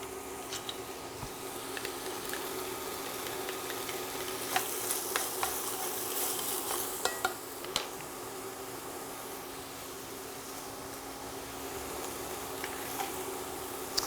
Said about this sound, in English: I'm going to go ahead and put my garlic in there.